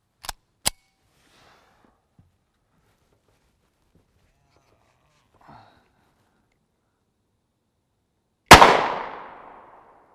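Shots from a 9x19mm pistol firing 94gr frangible ammunition, two sharp close cracks near the start, then a quiet pause and a louder blast with a decaying ring toward the end.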